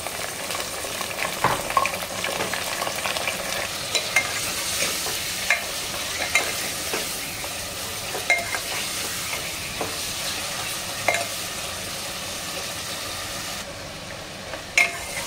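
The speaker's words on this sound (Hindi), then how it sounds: "अब इसमें मटन डालेंगे। मटन को अच्छे से तल लेंगे।" Mutton frying in a pan sizzles with a steady, bright hiss while a spoon scrapes and stirs in regular clinks and knocks, close and moderately loud with no talking.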